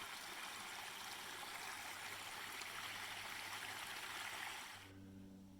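Creek water at Watkins Creek on a farm flows in a steady, broadband rush, continuous and fairly close, fading slightly near the end as a low hum enters.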